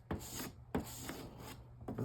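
A scraper pushes through paint softened by Zen-Strip remover. Three rough, rasping strokes come up close, each opening with a sharp catch.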